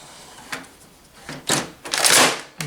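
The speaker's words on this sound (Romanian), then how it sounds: "băgăm unitatea de imagine" An imaging unit is slid into a Samsung M2675F laser printer, with plastic scrapes, a few sharp clicks and a longer rasping slide building to a loud knock near the end, close and without talk.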